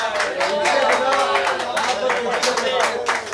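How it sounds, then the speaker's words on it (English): An audience claps steadily at a ghazal album launch event, with crowd chatter and voices mixed in throughout. "everybody please clap for Yogesh भाई"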